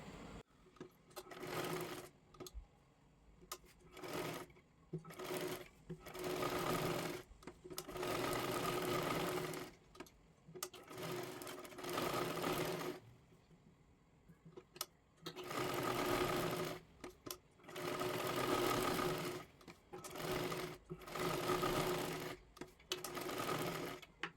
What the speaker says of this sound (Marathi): ते शोल्डरला सुद्धा आपल्याला शिलाई मारून घ्यायची आहे